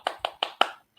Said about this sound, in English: I can hear everyone clapping